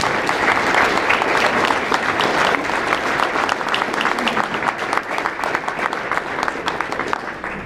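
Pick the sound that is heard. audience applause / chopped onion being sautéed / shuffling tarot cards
audience applause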